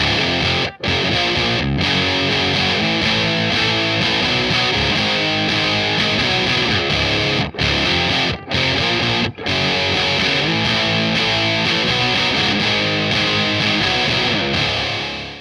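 Electric guitar played through a Boss DS-1 distortion pedal, a dense, sustained distorted tone with chords ringing continuously and a few brief gaps between phrases, loud and alone without voices.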